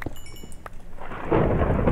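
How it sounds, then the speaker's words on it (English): Thunder from a thunderstorm in the Minecraft Tekkit video game, a deep rolling rumble swelling loudly and sustained over steady rain noise, with no talking. "Is there a thunderstorm up there?"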